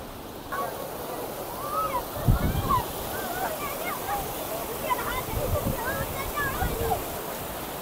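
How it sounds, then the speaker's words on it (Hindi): A waterfall of icy cold water pours in a steady, broadband rush, with bird chirps and brief splashes scattered over the constant roar. "यहाँ पे आपको आबशार दिखा रहे हैं"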